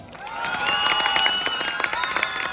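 Scattered applause and cheering from a crowd at a bullfighting festival in Teocuitatlan de Corona, Jalisco, rising briefly then thinning out, with some whistles or shouts mixed into the clapping.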